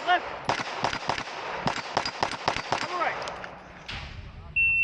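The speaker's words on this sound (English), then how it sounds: "starting unloaded, shoot the rifle, then shoot the pistol here. So one hit per steel" Rapid rifle and pistol shots ring out at a multigun match, a fast string of loud cracks with close spacing, followed by a short pause and a few more shots, with a faint tone near the end.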